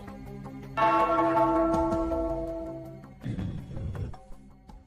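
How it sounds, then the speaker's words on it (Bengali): A struck bell rings out loud and clear, its tone decaying slowly before a second, softer strike that fades in turn. "ওই ঘন্টাটা বাজাও, বাজাও"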